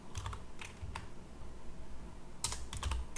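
Keys clatter on a computer keyboard in short bursts of typing, with pauses between clusters of quick clicks, close and fairly quiet.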